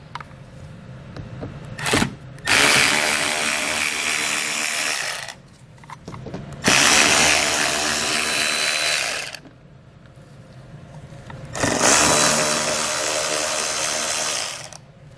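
A power tool buzzes in three long, loud bursts with pauses between them while pulling T15 fasteners from the rear wheel well liner of a 2020 Buick Enclave.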